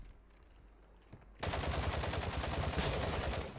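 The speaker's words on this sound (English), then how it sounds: "They're shooting the other team down low" Sustained automatic gunfire from Call of Duty Modern Warfare erupts suddenly after a quieter stretch and continues loud and rapid, a steady stream of close shots with no talk over it.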